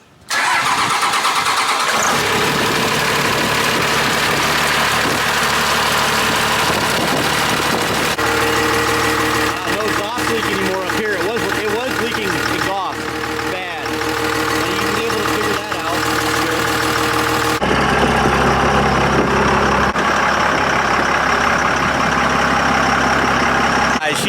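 A twin turbo Cummins diesel truck engine cranks and fires, then settles into a loud, deep, rumbling idle close by, with a brief change in tone partway through and a voice talking faintly over it.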